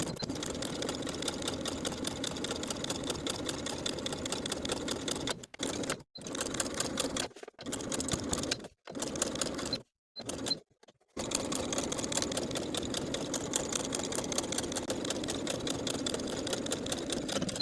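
A sewing machine runs in steady bursts of rapid stitching as it edge stitches close to a seam on a kimono robe jacket, pausing briefly several times midway before continuing at a constant close, even whir.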